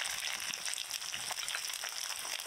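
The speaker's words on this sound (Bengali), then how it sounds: "পেঁয়াজগুলো লাল লাল করে ভেজে নিলাম।" Onions frying with spices in oil for a mutton curry, a steady close sizzle and crackle that continues without a break at moderate loudness.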